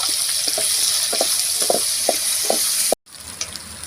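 Ginger and turmeric frying in a pan give a steady, loud sizzle with several soft stirring scrapes, then a brief cut to quiet before the frying resumes.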